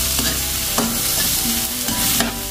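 White and red onions, garlic and ginger sizzle steadily in a pan while a utensil stirs and scrapes through them in several passes, loud and close, with no talking.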